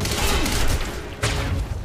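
Rapid gunfire in the Quantum Break video game, a dense burst of shots with booming impacts and a sharp report near the middle, loud and close throughout.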